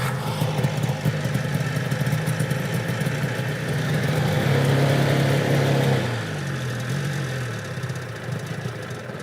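A Ski-Doo Elan twin-cylinder two-stroke snowmobile engine runs loud and close after a cold start on full choke, a rough, buzzing idle that rises briefly then settles lower.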